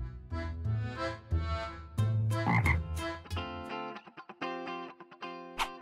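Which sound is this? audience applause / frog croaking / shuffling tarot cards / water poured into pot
frog croaking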